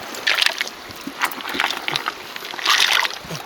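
Small freshwater fish, a pale chub and a dace caught on a stream outing, being released back into shallow water, giving several light splashes and sloshes spread over a few seconds, near and fairly clear.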